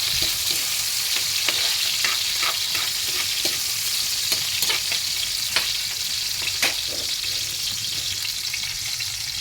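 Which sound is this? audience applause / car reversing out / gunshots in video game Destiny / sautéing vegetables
sautéing vegetables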